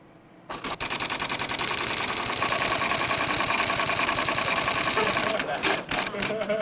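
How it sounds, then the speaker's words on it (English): A computer's typewriter terminal chatters loudly in a dense, continuous mechanical rattle for several seconds, then breaks off into a few scattered clacks. "The typewriter is simply a device by which we communicate with computers."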